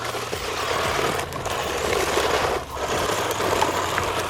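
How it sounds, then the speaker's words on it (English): A WLtoys RC car tearing through full-throttle donuts on gravel, a continuous high motor whine mixed with grinding crunch of loose stones, steady and fairly close. "You want to drive around on the gravel? Yeah. Abby's at the controls. Full throttle donuts."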